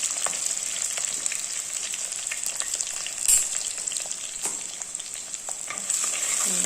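Garlic and ginger fry in a pan with a steady, close sizzle, broken by faint stirring scrapes and one brief louder clatter midway, with no voices.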